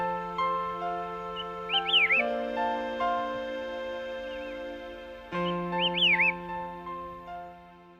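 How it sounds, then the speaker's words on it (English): Alpine birds in a high mountain forest and grassland at Hehuanshan, clear bright chirps and trilled whistles repeating in two bursts over a steady sustained tonal background, calls fairly close and distinct. "Birds leap onto the shrubs to celebrate the start of a lovely day."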